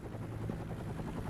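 A low, rumbling helicopter thrum fills the brief moment, steady and fairly close.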